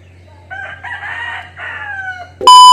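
A rooster crows loudly and close by, one long drawn-out call that rises and trails off, ending in a sudden burst of sound.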